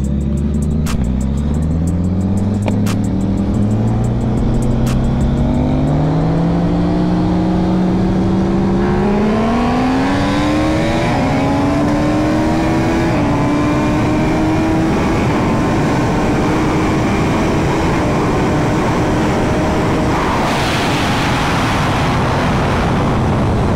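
Suzuki Hayabusa with a built motor and a Ducati Superleggera V4 accelerating hard in a second-gear drag run from about 60 mph, loud close engine roars climbing steadily in pitch with distinct gear-change steps, continuous and dominant.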